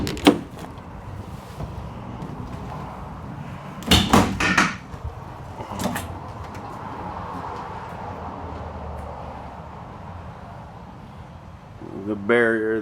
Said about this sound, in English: let's go ahead and grab the back here. Open this guy up.